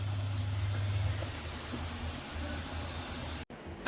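Pakoras frying in hot oil in a pan, a steady close hiss and sizzle that runs unbroken for several seconds before cutting off abruptly near the end.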